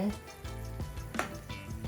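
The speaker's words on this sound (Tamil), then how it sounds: "இப்போ இது நல்லா கொதிக்க தொடங்கிட்டு பாருங்க, சூப்பரா கொதிக்க தொடங்கிட்டு" Oily sizzling and bubbling of masala boiling in a pan, steady and close, with occasional clinks of a utensil against the cookware.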